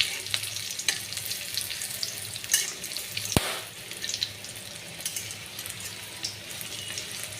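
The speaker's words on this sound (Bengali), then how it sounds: "এক পিঠ ভাজা হয়ে গেছে, এই পিঠটাও ভালো করে ভেজে নেব" Egg fritters fry in hot oil after being flipped, giving a continuous crackling sizzle close by with a single sharp knock partway through, and no one talking.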